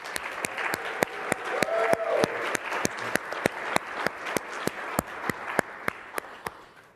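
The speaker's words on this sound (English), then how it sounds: "Round of applause for Panos." An audience at a tech summit main event applauds steadily, a dense wash of clapping with regular sharp hand claps standing out near the microphone, holding at even loudness throughout.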